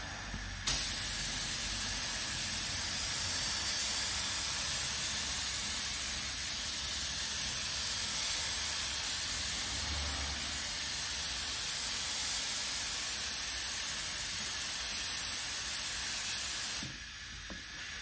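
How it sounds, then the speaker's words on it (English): A spray gun applies primer to a Ford Escort bonnet in a workshop, a steady, continuous hiss of air and paint mist running unbroken for most of the clip at an even level before stopping near the end. "So I've got primer in the gun."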